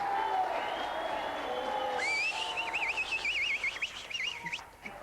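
A studio audience on the Games Master TV show applauds, a fairly faint, continuous patter of clapping with warbling whistle-like tones rising over it partway through before the noise fades.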